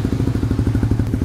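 Motorcycle fitted with a smoke muffler exhaust, idling with a steady, loud, rapid pulsing thump close to the pipe; no clear rev rise appears in this short stretch.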